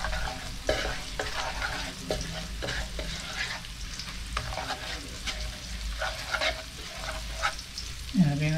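A whole white onion frying in a pan, a constant crackling sizzle with frequent scraping and tapping of a utensil stirring close by, busy and unbroken, no voices.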